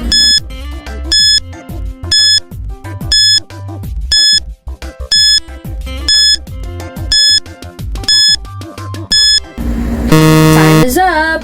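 A countdown timer beeps in a steady rhythm of loud, bright electronic pulses with music beneath, then a harsher buzzing alarm sounds at the end to signal time is up.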